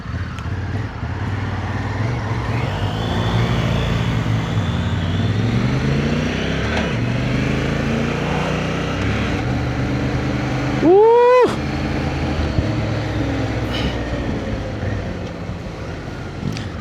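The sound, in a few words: Honda Africa Twin motorcycle riding on the road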